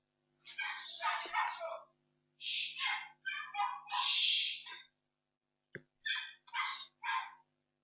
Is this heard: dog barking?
yes